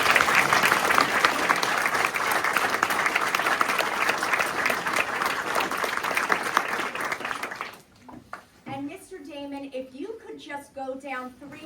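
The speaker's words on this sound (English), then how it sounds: "I'd like to ask everyone to join me in giving Mrs. Gorman a round of applause" Audience applause at a school board meeting, a dense, loud round of clapping for about eight seconds that fades out, followed by someone speaking alone.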